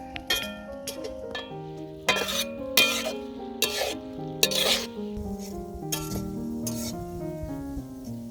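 Homemade herbal hair oil made from village plants is stirred in a pan over a low flame, with a steady faint sizzle and repeated metallic scrapes and clinks of the spoon against the pan, close and with no talking.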